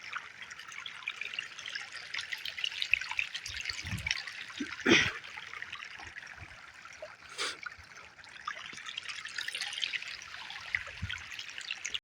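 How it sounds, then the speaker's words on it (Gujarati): Irrigation water trickles and gurgles into a maize field plot, soft and uneven close by, with a few louder splashes and dribbles amid quiet outdoor background. "આપણે કટકીમાં પાણી સડાવી દીધું હતું આજે"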